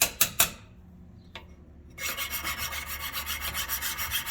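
A metal file scraping rust off a rusty part on a 2000 International ambulance, a few sharp strokes, a pause, then a steady run of rhythmic rasping strokes, close up with no talking.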